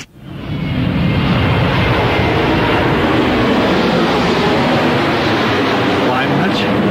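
Steady, loud aircraft engine roar rises within the first half second and holds as a continuous broadband drone for several seconds, as on a plane preparing for a flight to Amsterdam.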